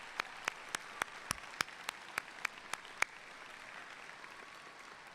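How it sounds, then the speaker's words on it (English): At a SUNY Oswego commencement ceremony, an audience applauds families and supporters. About a dozen evenly spaced, crisp claps ring out fairly close over three seconds, then fade into quiet room tone. "So let's take a moment to applaud all the family, friends, and supporters who are here today and cheering on our grads from afar."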